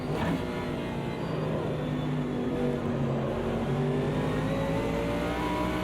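A race car engine in Automobilista 2 on the Nürburgring 24-hour endurance circuit in rain, revving steadily as it overtakes another car, loud and continuous with shifting harmonic whine.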